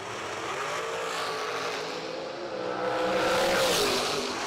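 A drag racing car engine at a bracket racing event roars loud and close, a sustained rumbling howl that swells toward the end, with no talking.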